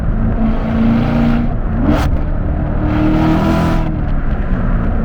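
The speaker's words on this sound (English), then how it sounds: "let's speed up here and just listen to some crisp downshifts" A 650 hp 2017 Corvette Z06 roars loudly from inside the cabin as it accelerates, its engine note rising and then dropping sharply through crisp downshifts, with one quick blip in the middle.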